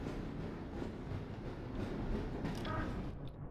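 A train in Half-Life: Source rumbles steadily along the tracks, a low continuous roar with a brief brighter rattle near the end, fairly quiet and without talk.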